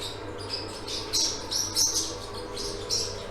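Young birds in a coop give short, faint, high chirps, a handful of scattered calls over a quiet background.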